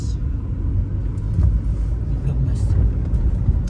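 Interior of a car driving on a rainy day, a low steady engine and road rumble with soft swells, while people talk inside.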